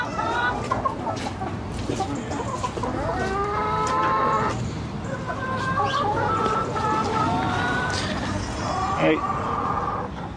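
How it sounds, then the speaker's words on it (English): Chickens cluck steadily throughout, close by, with people talking over the birds. "How do you feel seeing chickens in real life?"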